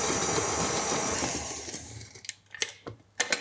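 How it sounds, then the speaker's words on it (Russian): An electric mixer beating eggs with sugar, starting at low speed: a continuous motor whir that fades out partway, followed by a few sharp clicks and knocks. "Яйца с сахаром будем смешивать до растворения сахара. Начинать лучше с небольшой скорости"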